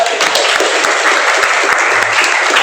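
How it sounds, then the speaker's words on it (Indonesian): A midwifery class breaks into loud, dense applause that holds steady throughout, a crowd of hands clapping close by with no talk over it. "Oke, kasih tepuk tangan."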